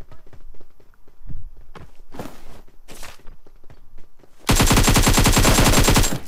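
Video-game AK rifle fire erupts as a dense, loud, rapid automatic burst, preceded by scattered footsteps and smaller impacts.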